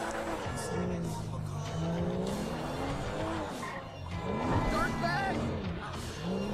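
A Porsche driven in the PC version of GTA V revs and wails with rising and falling engine pitch and squealing tires, under steady talking from a player.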